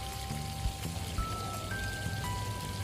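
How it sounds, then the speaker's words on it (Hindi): Potato slices frying in hot oil in a pan, a steady close sizzle and crackle that stays even throughout, with no voices. "सबसे पहले आलू के जो कतले कट किए थे उसको ऑयल के ऊपर डालेंगे इस तरीके से और डाल के इसको फ्राई करेंगे"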